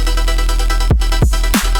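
Three layered synth bass patch built in Serum 2 in a wonky, melodic style: a loud, sustained buzzing bass tone with short pitch swoops and wobbles near the end, heard alone.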